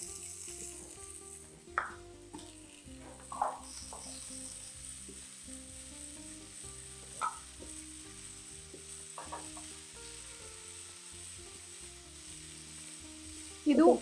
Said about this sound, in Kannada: ಕೊತ್ತಂಬರಿ ಸೊಪ್ಪು ಮತ್ತೆ ಹಸಿಮೆಣಸಿನಕಾಯಿ ಎರಡನ್ನೂ ಫ್ರೈ ಮಾಡ್ಕೊಳ್ಳೋಣ